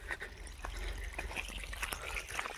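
Water pouring from a motor pump, a steady close splashing gush with a low rumble underneath and no voices.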